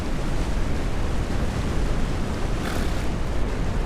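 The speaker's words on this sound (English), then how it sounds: "I don't know if my microphone's working very well over the sound of this wind" Loud, steady wind in the game The Legend of Khiimori, roaring and buffeting throughout, broadband and unbroken, with no voices.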